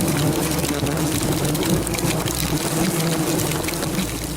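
Wasps buzzing steadily around a large nest, a dense continuous insect drone with layered wingbeat hum that stays close and loud throughout.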